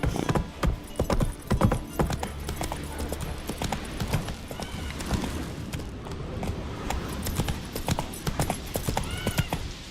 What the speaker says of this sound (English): Run, Roach. Giddy up.